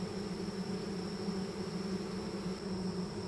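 Honey bees buzz steadily around an opened horizontal hive, a dense, continuous hum that holds at an even level throughout with no voices.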